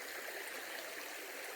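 A creek rushes steadily past the site of a washed-out bridge on the Appalachian Trail, a close, constant broadband water noise with no voices.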